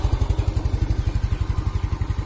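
Yamaha Mio scooter engine idling smoothly after a white-smoke fault was fixed, an even rapid chug pulsing steadily up close, with no voices.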